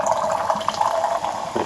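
A drink being poured into a glass at close range, a steady liquid splashing and filling sound lasting a couple of seconds with no voices.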